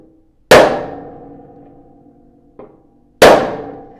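Two loud ringing clangs of a hammer striking a stuck metal part on a tractor, about three seconds apart, each decaying slowly, with a faint tap between them.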